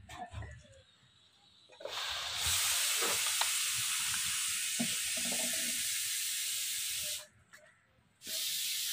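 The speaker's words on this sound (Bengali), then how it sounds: "গুড় অনেক সময় টক থাকে, হালকা করে আগে পর জাল দিয়ে দেবো।" Jaggery heating in a pan gives a steady, loud hiss and sizzle that runs for several seconds, then breaks off briefly and returns. Faint stirring noises can be heard near the start.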